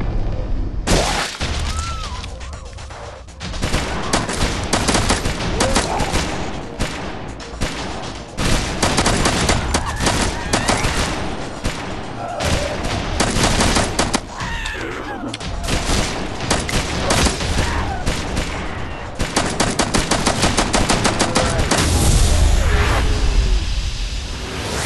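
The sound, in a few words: gunfire in the video game Kill Shot Virus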